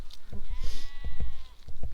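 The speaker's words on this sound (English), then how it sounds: "I think the sheep have got something to say about all that." Sheep in open countryside bleat from a distance in several short, wavering calls, fairly clear against a light background with scattered soft knocks.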